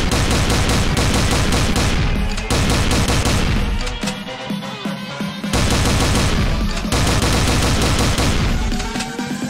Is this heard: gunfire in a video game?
yes